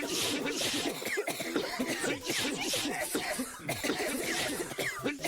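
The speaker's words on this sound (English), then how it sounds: "You can stop coughing and sneezing now" Several people cough and clear their throats in a continuous, overlapping stream, moderately close, with occasional snickers mixed in and no clear talk.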